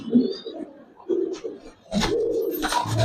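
Old-breed Giribaz pigeons in a loft coo repeatedly in low, throaty bursts, close by, with rustling and a busier stretch of loft noise toward the end.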